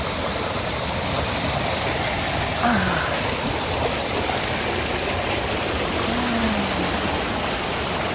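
Water rushes and babbles steadily in a broad, continuous wash, close and loud, with a brief faint voice partway through, at a cold stream at Hua Chang Waterfall in Thailand.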